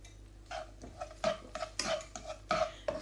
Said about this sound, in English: And then just stir this.